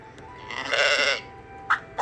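A sheep bleats once in a wavering, drawn-out call at moderate loudness, followed by a shorter faint bleat, with no talking.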